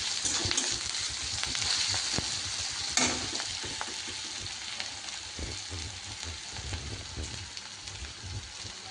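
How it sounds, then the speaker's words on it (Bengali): Ginger frying in hot oil with onion for a fish curry, a steady close sizzle with occasional stirring clicks and no talking. "আদাটা একটু লাল লাল করে ভাজা হয়"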